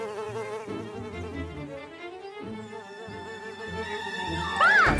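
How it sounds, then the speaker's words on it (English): Cartoon buzzing of a fuzzy insect creature called a fuzzer-buzzer, a steady wavering drone that rises to a brief whirring swoop at the end, heard over music. "Oh, Nits, it's a fuzzer-buzzer."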